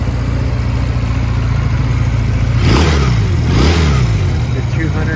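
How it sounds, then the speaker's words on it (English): A 2004 Honda Rebel 250 cruiser motorcycle with a 250cc engine, low miles and in like-new condition, idles steadily, then revs up twice in the middle with rising and falling sweeps before settling back to idle. "The 250cc engine makes good power"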